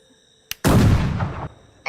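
A Springfield musket firing in the Wild West shooter game The Wild West: a brief click, then one loud, booming shot with a long rumbling decay, and the start of another blast at the very end.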